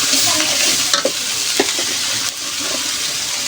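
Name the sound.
spice paste with turmeric frying and stirred in pan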